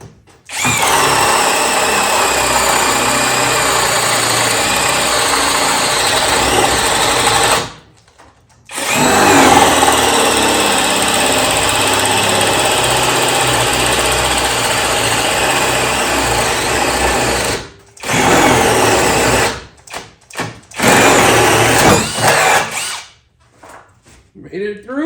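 A cordless drill drives a 1.25-inch wood bit through wood, whining loud and close for long stretches, briefly stopping twice and ending in a few short bursts as the bit breaks through.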